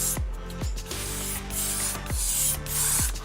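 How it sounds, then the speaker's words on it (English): Aerosol spray of TensorGrip L42 adhesive onto a Corian piece, hissing steadily in close repeated bursts with short sharp clicks between passes. "we're going to spray up this piece with a"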